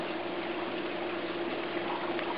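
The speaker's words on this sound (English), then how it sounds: "So this is my bell siphon here working beautifully." Water rushes and gurgles steadily as an aquaponics bell siphon drains into a sump tank, a continuous close hissing flow with no voices.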